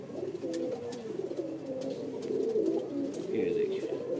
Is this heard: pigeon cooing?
yes